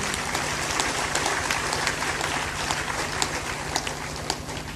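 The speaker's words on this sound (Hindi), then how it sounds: "ताली बजाकर उनका अभिनंदन करें" A gathering at a spiritual discourse claps to honour a devotee from Chhindwara district, a dense, steady patter of many hands throughout, with a faint steady hum underneath.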